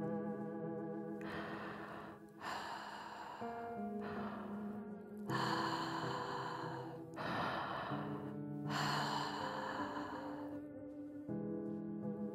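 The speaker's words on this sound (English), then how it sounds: "I hear breathing that isn't mine." An unseen person breathes heavily as a horror-story sound effect: slow, drawn-out breaths in and out repeat steadily over sustained droning tones.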